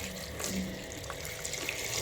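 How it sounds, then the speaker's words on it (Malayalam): Water runs and splashes steadily into a pressure cooker, a soft continuous pour with no talking. "നമുക്ക് ഇതിലേക്ക് വവാൻ ആവശ്യമായ വെള്ളം കൂടി ഒഴിച്ചു കൊടുക്കാം"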